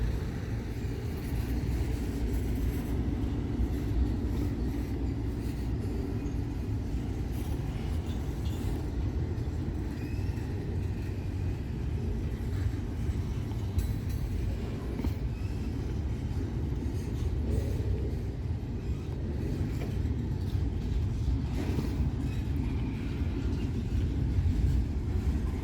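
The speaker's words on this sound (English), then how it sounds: "Got a refrigerator car coming up." A steady, continuous rumble of a Norfolk Southern freight train with a refrigerator car rolling past in Ohio, broad low-frequency roar holding evenly throughout with no voices.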